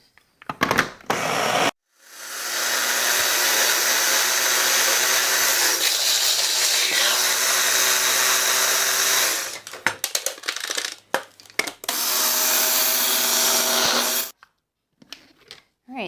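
A countertop blender grinds breadcrumbs with spices and garlic in a home kitchen, running in two loud, steady whirring bursts split by a pause full of clatter and short pulses, with brief knocks at the start and end.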